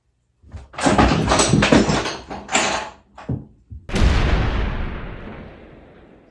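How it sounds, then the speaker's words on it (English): A loud series of crashes and thuds, several heavy impacts in quick succession, then a final bang with a long rattling decay. "just slammed each other into my crystal display shelf."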